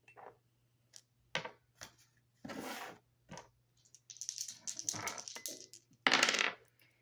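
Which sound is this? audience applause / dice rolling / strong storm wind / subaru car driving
dice rolling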